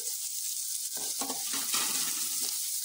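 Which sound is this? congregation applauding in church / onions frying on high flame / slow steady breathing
onions frying on high flame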